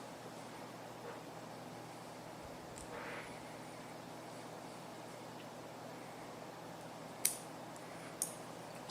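Small scissors snip excess thread at a fly-tying vise, two or three faint, sharp clicks near the end over a quiet room hiss.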